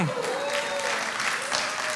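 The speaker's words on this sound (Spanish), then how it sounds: "Miren, un aplauso." An evangelism workshop audience applauds with a continuous wash of clapping, and voices call out over it.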